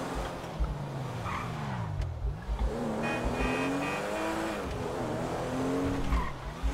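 A stolen car in GTA 5 revs and drives steadily, with the engine note rising and falling and tires squealing through turns. No talk is heard over it.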